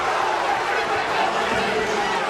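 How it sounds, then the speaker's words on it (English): Basketball arena crowd during a Pitt Panthers at Clemson Tigers game, a steady murmur of displeased chatter and babble filling the space throughout, with no distinct cheers or boos standing out. "The crowd's not real pleased with that"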